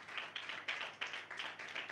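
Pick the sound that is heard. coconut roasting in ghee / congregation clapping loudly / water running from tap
congregation clapping loudly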